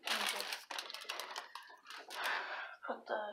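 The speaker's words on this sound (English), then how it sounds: "Find a good sized paper bag for this," Crinkling of a brown paper bag as glass shards are put into it, with broadband rustles and crackles running through the clip up close, under a person talking.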